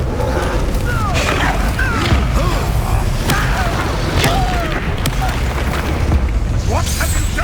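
Confringo fire spells explode during combat in the video game Hogwarts Legacy, a run of repeated booms and bursts among busy battle effects, with game voices mixed in.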